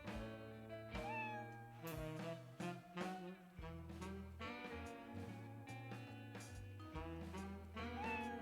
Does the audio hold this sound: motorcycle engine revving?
no